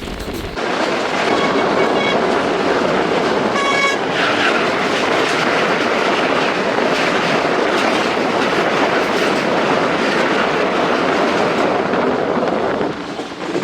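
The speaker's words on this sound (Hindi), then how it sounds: "ज़बरदस्त स्पीड के साथ पास हुई दोस्तों 10 डाउन अलामा इकबाल" The 10 Down Allama Iqbal Express passes at high speed, a loud, close rush of wheels and carriages with rapid clickety-clack, a brief horn early on, and a continuous roar that holds until the end.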